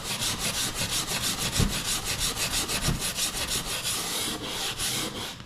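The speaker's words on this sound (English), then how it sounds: "I usually start with my nylon bristle brush, and then I have a brass or copper brush" A nylon bristle brush scrubs a tile floor in quick, even back-and-forth strokes, a close rhythmic rasping that repeats steadily throughout with no talk.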